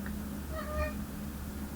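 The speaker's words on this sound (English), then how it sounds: "That's my cat." A house cat meows a few times indoors, short rising tonal calls that are faint against steady low room hum.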